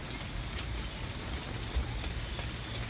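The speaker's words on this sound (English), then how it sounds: "The rain's cold." Cold rain falling steadily outdoors, a faint, even patter of drops with a soft constant hiss and no voices.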